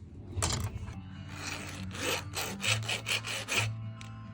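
A hand file scrapes back and forth in a run of uneven rasping strokes, some long and some quick and clipped, close by with no voices.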